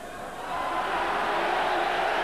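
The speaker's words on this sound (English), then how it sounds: "Cheers and derision from the crowd" A boxing arena crowd roars in a continuous wash of cheers and jeers, swelling slightly and then holding at a loud, dense level with no single voice standing out.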